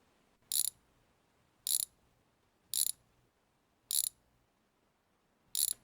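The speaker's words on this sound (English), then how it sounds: "So we'll undo all of these bolts over here." Five evenly spaced bursts of a ratchet wrench clicking as camshaft bolts are undone on a racecar engine, each a quick crisp rattle about a second apart, close and clear against near silence.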